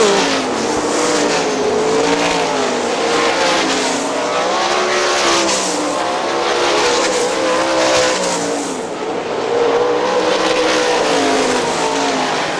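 Sprint cars race around the dirt oval at Hartford Speedway Park in 2003, with loud, continuous engine roars rising and falling as cars sweep past close by, and no voices over them.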